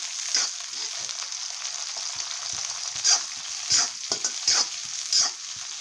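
Chillies and capsicum fry in a hot pan for chicken chilli, giving a steady close sizzle broken by several distinct scraping stir strokes, with no talking.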